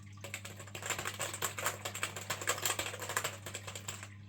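Rapid, uneven clicking of keys being typed on a computer keyboard, close and fairly quiet, over a low steady electrical hum.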